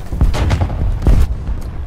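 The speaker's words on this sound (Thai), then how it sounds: "ระเบิดตก" Bombs dropped from an aircraft in War Thunder explode near the ground, giving two heavy, loud low booms about a second apart over a constant rumble of engine and battle noise.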